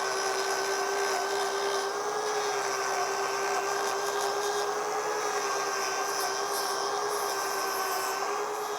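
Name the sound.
grinder thinning out an overgrown cow's hoof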